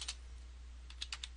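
Keystrokes on a computer keyboard typing a query criterion: a few quick clicks at the start, then a short pause and a burst of four or five taps near the end, quiet and close with no talking.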